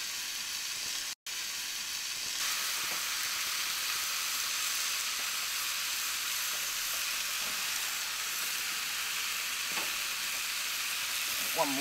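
Streaky bacon on a barbecue hot plate gives a loud, close, continuous hiss and sizzle, briefly cut out once near the start, with a few soft clinks under it.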